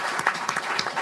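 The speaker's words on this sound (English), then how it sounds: "let's give our panelists a big round of applause" A crowd applauds panelists at a public policy panel, dense overlapping claps forming a steady, moderately loud round of clapping.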